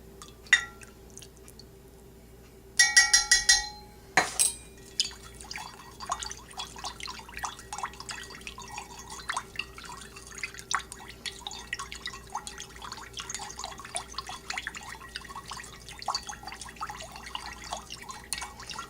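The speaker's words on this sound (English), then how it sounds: "now it's time to add my Lemongrass Essential Oil" Drops of lemongrass essential oil fall into a lotion bar and lip balm mixture, a burst of small clinks early on followed by many quick, faint, irregular drips and ticks close by in an otherwise quiet room.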